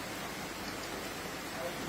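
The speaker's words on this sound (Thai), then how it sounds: "ฝนตกค่ะฝนตกได้ยินเสียงฝนไหมคะ ข้างบนเนาะหลังคาฝนบ้านยี่มาตกนะคะเพื่อน" Rain falls on a house roof, a steady soft hiss of dense drops that is even and continuous throughout, with no distinct voice.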